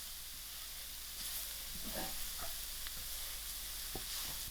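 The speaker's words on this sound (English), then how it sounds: "I will allow this cauliflower to fry for 3 to 5 minutes." Salted cauliflower fries in a pan for a stuffed paratha filling, giving a steady, close hiss of sizzling oil broken by a few soft scrapes and knocks of stirring, with no voices.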